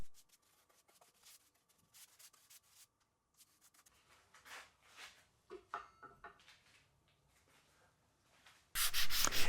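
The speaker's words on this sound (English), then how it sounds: "I'm going to sand off all the excess from the surface of the wood using 150 grit sandpaper" Wood of a guitar body being sanded with 150 grit sandpaper over dried sanding sealer: soft, intermittent rubbing strokes, mostly quiet and uneven, ending in a sudden loud burst of sustained scratchy sanding.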